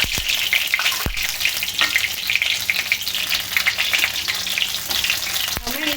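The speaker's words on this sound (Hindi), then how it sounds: "तेल अच्छी तरह से गर्म हो चुका है तो मैं इसमें धीरे सारे बैगन डालकर अच्छी तरह से इन्हें अलग पलट कर फ्राई करके" Eggplant pieces frying in hot oil in a pan, giving a steady, loud, dense sizzle with crackling and a few stirring clatters, no voices.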